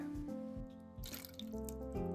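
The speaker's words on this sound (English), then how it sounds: "I pour the salt water." Salt water is poured over persimmon and white radish in a kitchen, a short soft splashing trickle lasting about two seconds, close and quiet.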